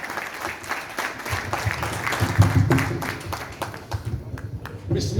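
Applause at a tribute ceremony for a consul general in Valencia, uneven crowd clapping with murmuring voices that thins toward the end.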